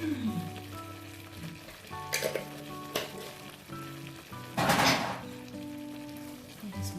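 Spices, turmeric and salt are stirred in a frying pan over low heat for chicken tikka masala, a soft sizzle under several sharp scraping strokes of the utensil, with music playing in the background.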